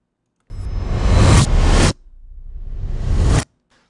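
A reversed stabbing-hit sound effect, two loud, close, noisy swells that build up and cut off abruptly, the second rising more slowly from a low rumble before stopping dead.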